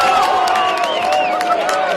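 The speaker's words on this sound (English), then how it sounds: "It's got the crowd roaring there." Crowd roars after a goal at a country football semi-final between Nullawil and Donald, steady broad cheering throughout with a few whistles and shouts rising over it.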